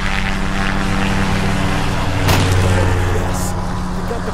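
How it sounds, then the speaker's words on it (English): A plane engine runs in the video game Greyhill Incident, a loud, steady droning hum with a brief swell partway through and no talking. "Yes, we got the plane working."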